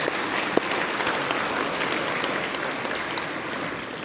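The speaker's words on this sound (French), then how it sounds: "Une bonne main d'applaudissement." An audience at an agricultural hall of fame ceremony in Quebec claps in sustained, dense applause, steady and fairly loud from start to finish with no voices.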